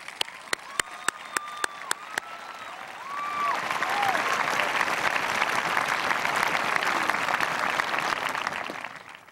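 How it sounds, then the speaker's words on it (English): An audience at a 2006 South St. Paul high school graduation ceremony applauds teachers and staff. After a few sharp early claps, a broad, sustained wave of crowd clapping swells and carries on to the end. "Please give them a nice round of applause."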